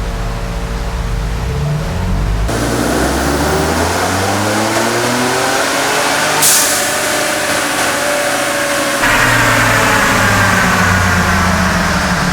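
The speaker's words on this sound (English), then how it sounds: "We're gonna go ahead and do the baseline pull and see how much power this unit makes." A stock Ford Bronco truck's 2.7L engine revs hard on a dyno, climbing steadily through the gears in long rising sweeps, loud and close, with brief shifts breaking the pull and no talking.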